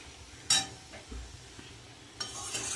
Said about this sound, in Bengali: এবার নাড়িয়ে চাড়িয়ে নুন মিষ্টিটা একটু দেখব